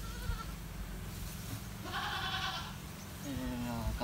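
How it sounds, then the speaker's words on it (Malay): A goat bleats in a wavering, harmonic call around the middle and again toward the end, heard over a steady low rumble with people talking nearby. "Oi, kambing hilang ah. Oi, kambing. Kambing."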